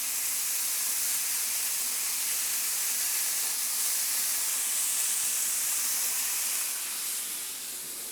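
Broccoli sizzles in a pan of browned butter, a steady loud hiss and crackle of frying that holds evenly throughout and eases slightly at the end, with no voices.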